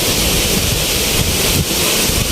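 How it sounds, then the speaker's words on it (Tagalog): Strong typhoon wind from Typhoon Kristine roaring and buffeting the microphone, a dense, loud rush with no break across the whole moment. "Lakas pa rin ng hangin."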